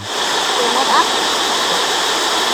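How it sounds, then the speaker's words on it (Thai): A waterfall at Thar Thada homestay in Suan Phueng pours in a steady, loud, broadband rush throughout, with a faint voice briefly audible over the water. "มาเล่นน้ำตกครับผม"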